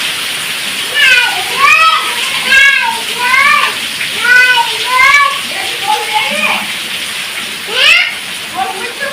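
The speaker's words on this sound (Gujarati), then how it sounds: "એને તો નાવાની મજા આવી છે" Children's high voices shout and squeal over a constant wash of running, splashing water, close and lively.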